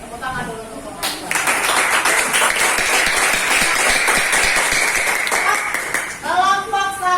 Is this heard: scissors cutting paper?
no